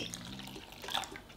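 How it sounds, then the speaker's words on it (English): Lukewarm chicken stock pours into a beaten egg mixture, giving a close, gentle liquid trickle and splash that swells slightly toward the end. "Pour the lukewarm chicken stock inside."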